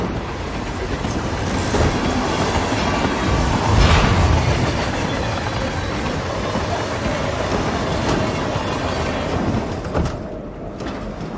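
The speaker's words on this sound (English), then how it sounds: "The Ether Corporation bought this train for sample backup storage" A train in the video game Hitman 3 rolls along with a steady, loud rumble and rhythmic clickety-clack of wheels on rails, with occasional metallic squeals and a brief quieter stretch near the end.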